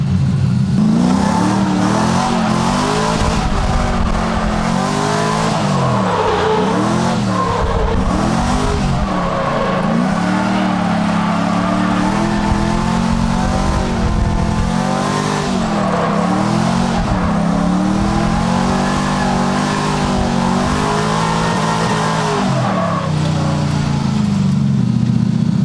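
Drift cars hot lapping an oval race track, engines roaring loud and close throughout with continuous revving that rises and falls through gear changes and throttle shifts, a dense unbroken motor drone.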